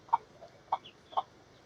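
Medium-sized young chickens moved into a larger coop give three soft, brief clucks spaced about half a second apart, quiet and close by with no other sound.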